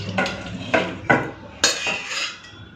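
Rohu fish curry with mustard paste, green chilli and eggplant tipped from a pan into a serving dish, giving four distinct metal scrapes and clanks of pan against dish, close and fairly loud with no talk.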